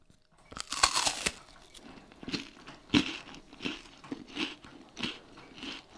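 A loud crisp crunch of a wafer being bitten, followed by a series of rhythmic, close-up crunchy chewing sounds.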